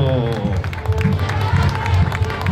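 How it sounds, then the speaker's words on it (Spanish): Crowd applauding the Caminantes de Santiago II morenada troupe at a folkloric fraternity parade in Santiago II, steady clapping and cheering mixed with voices and band noise throughout. "Vamos a recibir con un fuerte aplauso a los caminantes de Santiago II"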